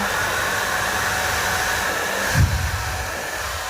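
A Philips BHD538/30 hair dryer runs with a steady, loud airy whoosh and high motor whine, close up, with a short low thump partway through; no talking.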